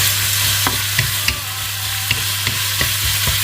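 Vegetables stir-fried in a pan at home, a close, constant sizzle with regular spatula scrapes and clacks against the pan every half second or so, and a low steady hum underneath.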